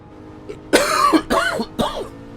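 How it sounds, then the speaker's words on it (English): Three harsh, chesty coughs in quick succession, close and loud, with a short pause between each. "Be alright if I could not have this blooming cough."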